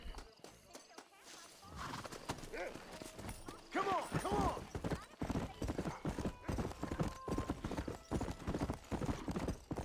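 Rhythmic hoofbeats clip-clop steadily at a quick pace in the video game Red Dead Redemption, with a horse whinnying partway through and a voice talking over the galloping.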